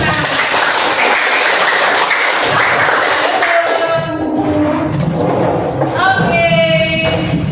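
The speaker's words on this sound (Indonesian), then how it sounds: "Nah, tepuk tangan." Classroom of students clapping their hands together during a counseling lesson, loud dense clapping that thins out as voices and a whistle-like tone come through in the second half.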